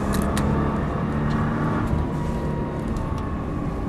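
A Nissan GT-R engine accelerates at full throttle on the Dreux race circuit, a steady loud onboard drone filling the whole clip with no speech.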